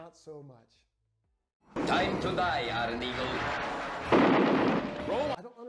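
A brief voice, a pause, then a loud, dense barrage of rapid movie gunfire and booming blasts from an aerial film scene that runs continuously for several seconds before cutting off.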